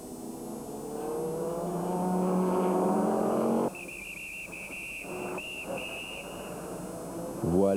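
Race cars at the 2001 24 Hours of Le Mans, including an Audi and Chryslers, with a loud engine note that swells and then cuts off, followed by quieter track noise, a high whine and another engine rising at the end.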